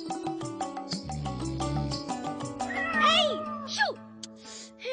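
A cartoon cat in a Hindi animated series lets out several meows, some short and some drawn-out and wavering, layered over ongoing character dialogue and background music.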